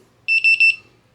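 Konig 1.0 gun safe fingerprint lock giving a burst of quick high electronic beeps, close and clear, in a tight even rhythm lasting under a second.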